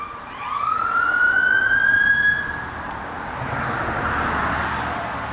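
A fire department siren wails loudly as it passes nearby, its rising tone swelling then dropping away, followed by lingering road traffic rumble.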